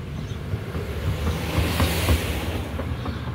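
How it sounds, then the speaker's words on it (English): Wind blows outdoors beside a small fire where lunch is being cooked, a steady broadband rush with gusty swells at close range, continuous and fairly loud throughout with no talking. "And the wind blowing right towards me,"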